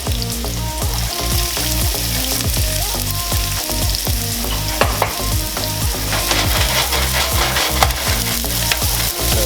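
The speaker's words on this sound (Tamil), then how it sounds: "ஸோ அதுக்கப்புறம் கட் பண்ணி வச்சுருக்க ஆனியனை போடுறோம்" Chopped onions and chillies hit hot oil for gobi manchurian, a loud, dense sizzle with constant crackling and repeated clattering stirs against the pan.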